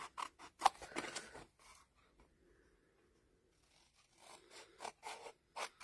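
Several quick crisp snips of scissors cutting paper, a short burst, a pause with faint rustling, then more snips near and fairly loud.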